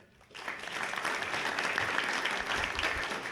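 Audience applause for a mayoral candidate at a Strathroy-Caradoc Ward 1 all-candidates debate, a steady dense clapping that starts after a brief quiet moment and holds at full strength to the end.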